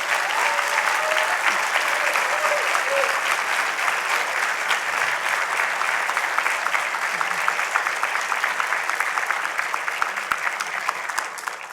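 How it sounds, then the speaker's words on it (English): Sustained audience applause at a university awards ceremony, a thick, even roar of many hands clapping in a large hall, loud and steady for several seconds before slightly tapering near the end. "Join me in an applause for everybody who contributed and supported our students."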